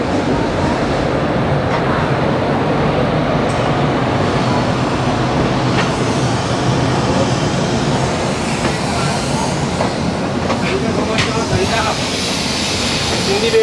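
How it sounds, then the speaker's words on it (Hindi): Kamayani Express train passing alongside, a continuous rolling rumble with intermittent wheel clatter and metallic clicks, heard from nearby over a long steady stretch. "सामने आप देख सकते हैं कामायनी एक्सप्रेस"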